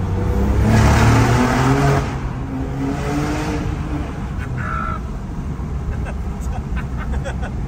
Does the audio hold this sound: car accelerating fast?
yes